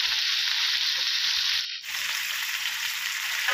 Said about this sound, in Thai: ผัดหมูไปเรื่อย